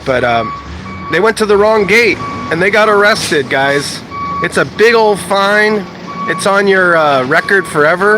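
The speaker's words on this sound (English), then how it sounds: "Sorry about that noise, that garbage truck" A garbage truck's reversing alarm sounds repeated steady electronic beeps in the background while someone talks loudly over it throughout.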